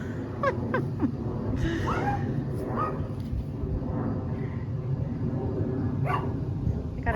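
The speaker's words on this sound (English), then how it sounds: "Coco. Bean, what you barking at?" Dog barking outdoors in a garden, a series of sharp barks and yips scattered through the clip over steady background noise.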